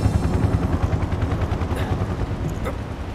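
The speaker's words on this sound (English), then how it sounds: "Time to take down a helicopter." A helicopter in the video game Final Fantasy 7 Remake thunders with a dense, rhythmic rotor chop, mixed with bursts that sound like gunfire throughout a loud combat scene.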